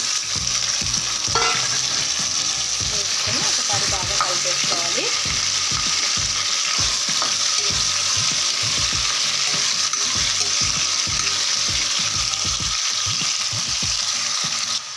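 Washed chicken pieces frying in a hot pan, producing a loud, continuous close sizzle with crackles and rapid spatter throughout, along with clattering stirring knocks and no talk.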